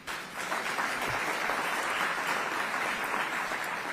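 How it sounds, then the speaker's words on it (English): An audience at a tech summit, the ICT Summit 2023, breaks into a sustained round of applause, a dense, even wash of clapping that swells in quickly and holds steady, with no talking over it. "Can we give them a round of applause, please?"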